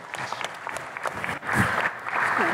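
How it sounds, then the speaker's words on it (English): An audience claps throughout, a steady round of applause with scattered sharp claps, rising slightly toward the end with faint voices and cheering mixed in. "All right, let's clap it up for Droneseed."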